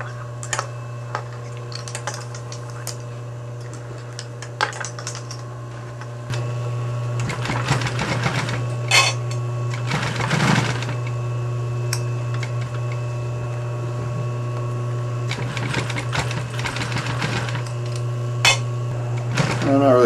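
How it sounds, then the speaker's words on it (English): A sewing machine stitches a heavy leather quilt held with grip sewing clips, giving a steady mechanical hum with rapid needle clatter in bursts, while someone talks over it. "Doing any adjusting other than just making sure the fabric lays the way it's supposed to when it goes underneath the machine."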